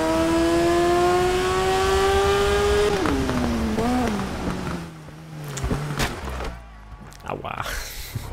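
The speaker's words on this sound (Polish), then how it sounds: "Ten motocykl rusza tak wolno z tych niskich obrotów" A motorcycle engine in the racing game TT Isle of Man drones loudly, pulling slowly from low revs, its pitch climbing slowly and then sliding down as it fades amid other game noises.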